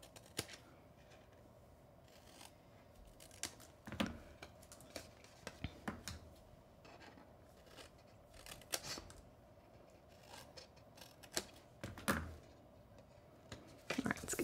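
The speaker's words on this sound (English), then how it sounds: "I'm gonna go ahead and miter cut these tabs" Tabs of a Velcro dots dispenser box miter cut with a cutting tool, giving soft, irregular snips and clicks spread across the stretch, faint and close in a quiet room.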